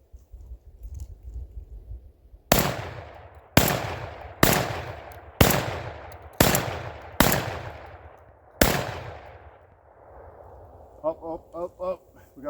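Panzer EG200 shotgun fires seven loud, sharp rounds in steady succession, each booming report decaying before the next, outdoors in field testing; a few quieter mechanical clicks follow at the end.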